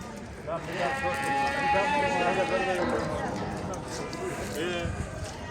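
Several lambs bleat in overlapping cries amid a busy crowd at the Çayırbağ livestock market in Afyon, Turkey, with people talking loudly nearby and general livestock-market commotion.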